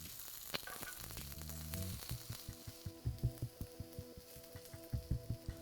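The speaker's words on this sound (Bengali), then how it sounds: "আর এরই সাথে আমি এখানে কয়েকটা শুকনো লঙ্কাকে একটু ভেজে নিচ্ছি হালকা।" A few dried red chilies lightly fry in a pan for a bean bharta, giving a faint, steady sizzle with soft rhythmic ticks and scrapes from stirring over a low hum.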